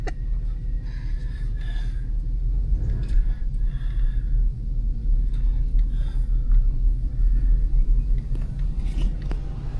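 A work vehicle with freshly repaired front brakes drives along, producing a steady, heavy low rumble with faint rattles and knocks throughout and no talking.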